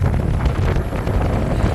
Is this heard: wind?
yes